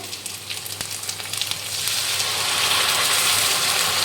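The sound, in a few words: ginger garlic paste and masala frying in oil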